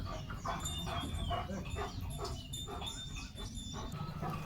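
A German Shepherd barks and whimpers outdoors in an open field, its yelps and bursts rising over steady rustling background noise.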